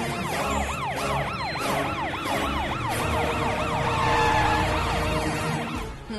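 Police vehicle sirens wail in rapid repeated up-and-down cycles as the vehicles arrive at a house, loud and continuous with a low engine rumble beneath.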